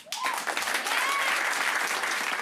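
An audience at a magic show breaks into sustained applause, a dense wash of clapping starting abruptly and holding steady, with a few voices mixed in.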